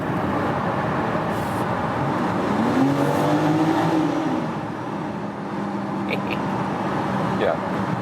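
A BMW X4 M Competition drives through a road tunnel, its engine giving a steady, enclosed roar with a rising note that swells and then eases, while a voice talks faintly over it.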